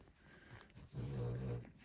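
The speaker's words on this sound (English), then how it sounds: "Oh my goodness, that's my dog snoring." A dog snoring softly nearby: one low, rumbling breath that swells and fades in a quiet room.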